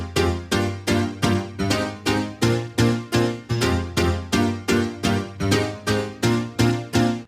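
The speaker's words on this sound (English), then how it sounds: "And then I also layered this piano sound with two more piano sounds." M1-style house piano layered with two more piano patches gives a full, punchy chord stab sound in a future house track, repeating in a steady pulse of roughly sixteen quick-decaying hits, loud and alone.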